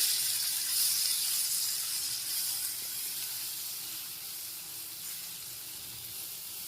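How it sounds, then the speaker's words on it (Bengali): Spices fry with chopped tomato and onion in a pan for rui fish curry, giving a steady, close sizzling hiss that holds evenly throughout with no talking. "মশলাটা ভাজা ভাজা করে নিয়েছি"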